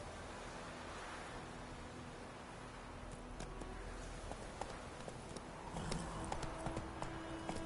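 Roach the horse trots in The Witcher 3, hooves clip-clopping steadily and fairly faintly over a soft ambient wash that grows slightly busier toward the end.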